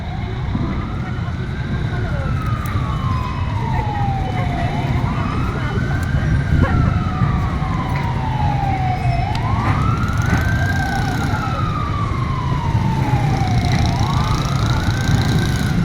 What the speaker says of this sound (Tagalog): dumating na ang bumbero ng Tanawan City